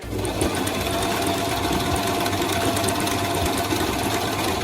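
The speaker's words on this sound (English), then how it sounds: "I'm going to start with the back now before I stitch them together." A sewing machine stitches the back pieces of a DIY crop top, running in a steady continuous whir with a constant needle clatter throughout, alone and fairly loud with no talking.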